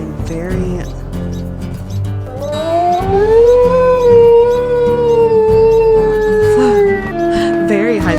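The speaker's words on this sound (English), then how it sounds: "Very high-pitched howl." A high, wavering wolf howl from the video game WolfQuest rises and sustains for several seconds, synthetic and clear, over a low droning background.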